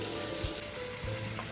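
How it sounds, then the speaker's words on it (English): Hot water poured out of a cooking pot into a sink after twenty minutes of boiling, making a steady continuous splashing rush with a couple of low thumps, close by and alone. "I'm going to take it out and drain out the hot water"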